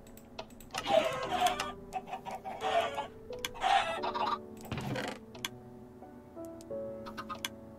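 Chickens on a farm in the video game Minecraft give soft, scattered clucks over a quiet background with clicks and a low steady tone.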